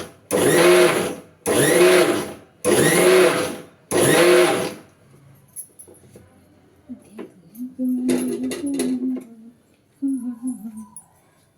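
A kitchen mixer jar grinds coconut and curry leaves into powder in four loud, evenly spaced whirring bursts, followed by quieter handling noises and a brief stretch of talking.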